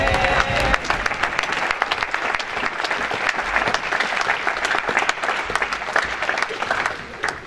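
A church congregation applauding, dense sustained clapping from a large crowd with scattered cheers, loud and close, tapering slightly at the end.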